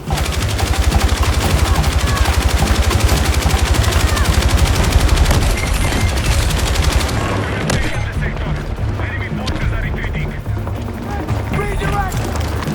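An LMG machine gun in Battlefield 6 fires a long, continuous rapid burst for about seven seconds, then gives way to distant scattered gunfire and battlefield noise with voices underneath.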